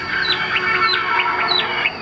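A tame songbird perched on a hand chirps repeatedly in quick, bright rising calls, fairly close and clear, with no talking.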